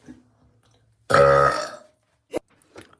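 A single long, loud burp sounds alone after near silence, followed by two brief faint knocks or thuds.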